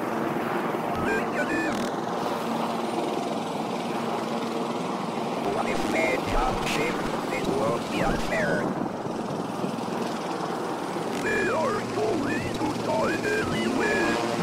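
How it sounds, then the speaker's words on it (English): Helicopter flying overhead in the video game Concrete Tremor, a continuous loud rotor drone filling the scene with people talking over it. "There's a helicopter."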